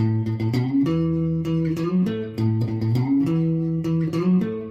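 An electric guitar plays a repeating intro riff, sustained notes and slides, loud and close, with no voices.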